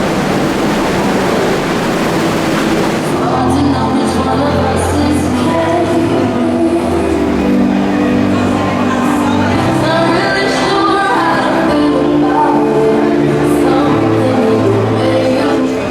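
A loud New York City subway train rumbles and rolls through, with metallic screeching tones and a steady roar that persists throughout.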